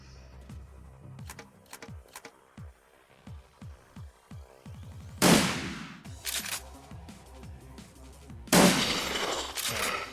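Video game gunfire with friendly fire enabled, a string of separate shots in an uneven rhythm, then two louder, broader bursts of firing close by, with no talk.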